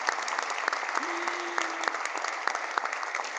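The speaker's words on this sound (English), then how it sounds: "So let's give them all a round of applause." An audience at a community celebration applauds sponsor organizations with steady, dense clapping that holds evenly throughout, with a brief tonal hum rising faintly through the middle.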